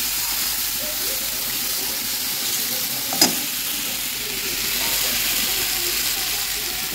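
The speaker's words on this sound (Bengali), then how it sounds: "ঝোল দিয়ে দিচ্ছি।" Broth is poured into a fried spice paste in a pan, raising a loud, steady sizzle with a brief sharp splash midway.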